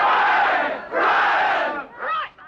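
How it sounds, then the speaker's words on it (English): Arab-speaking film extras on the set of Monty Python's Life of Brian shout together in a crowd scene, in loud, massed bursts of yelling, one long roar after another, ending in a shorter cry. "When we were doing those crowd scenes where they all had to shout out, this is an Arab-speaking crowd"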